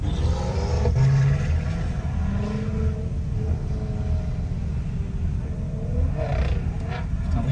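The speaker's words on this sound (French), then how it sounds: "drifter avec une M5 F10 quand même" A BMW M5 F10 engine roars steadily while drifting, with a sustained loud, rumbling drone and a few rising and falling rev changes, heard from nearby without talk.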